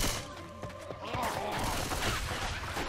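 Gunfire rattles while zombies are shot in Left 4 Dead 2, a dense, loud continuous barrage with thuds and crashes mixed in, brief voices over it.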